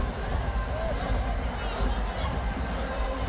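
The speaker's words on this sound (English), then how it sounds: "this was the final pass that the crowd just erupted for" Crowd roaring and cheering at a college gymnastics meet after a final floor pass, a dense, steady wash of voices and applause close around, sustained throughout without a break.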